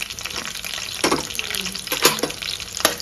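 Onions and green chillies frying in a pan for mutton boti biryani, a steady sizzle and crackle with brief louder scraping bursts of stirring.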